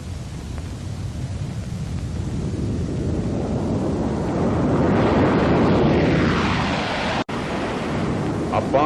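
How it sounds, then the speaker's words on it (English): A Boeing B-47 Stratojet jet bomber roars as it passes, the rush of its engines swelling to a loud peak and then fading, with wind noise over the recording. "The Stratojet was all set to try its wings,"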